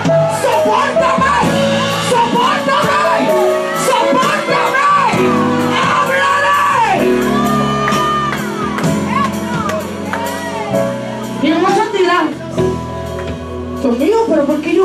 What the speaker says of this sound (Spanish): pero ¿por qué ellos gritan así?